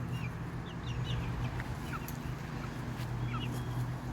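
Caged young chickens cluck and chirp in short, scattered calls over a low steady hum, fairly quiet and close.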